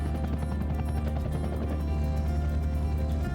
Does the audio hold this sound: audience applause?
no